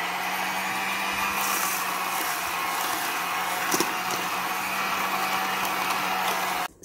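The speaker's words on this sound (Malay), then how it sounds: "menggunakan hand mixer ini ya untuk mengisar bahan-bahan" A hand mixer runs on its lowest speed, number 1, blending baking ingredients: a steady, fairly loud whirring drone that holds evenly throughout and then cuts off abruptly at the very end.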